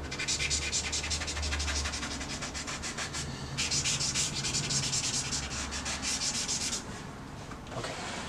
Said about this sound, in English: all of that can be done with your kneaded eraser